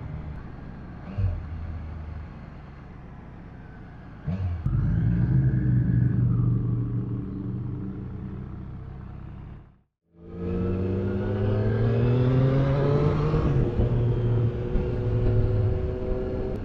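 Original-spec Yamaha RD350LC two-stroke motorcycle ridden on open road, a rising and falling engine drone with gear changes and revving, heard close from a following bike with a brief dropout midway.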